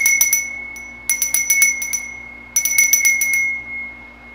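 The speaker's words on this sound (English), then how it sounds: "we use a bell to create the sacred time" A small bell rung three times to open a Wiccan ritual, each ringing a quick cluster of bright metallic strikes followed by a clear lingering tone, close and alone in a quiet room.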